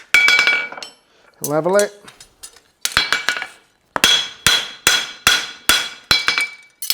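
Hammer blows ring sharply on steel while nail holes are stamped into a horseshoe on an anvil: a few scattered strikes, then a steady run of evenly spaced metallic clanks, with a brief spoken remark early on.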